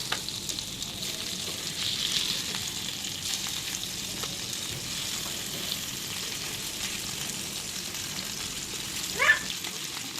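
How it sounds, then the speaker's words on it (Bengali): Hilsa fish frying in a pan after being flipped, a steady, fairly quiet sizzle running throughout with a brief clink near the end. "তারপরে এবার উল্টিয়ে দিয়েছি, অপর পিঠটা ভালো করে ভাজি করে নিতেছি।"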